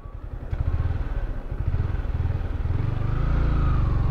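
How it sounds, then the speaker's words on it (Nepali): A motorcycle engine running steadily close by, a rapid low throbbing that grows louder and fuller toward the end as it rides off, no voices. "दाइ बाइक जान्छ"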